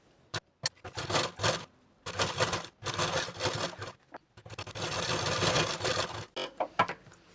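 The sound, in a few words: sewing machine stitching a double line of firm stitches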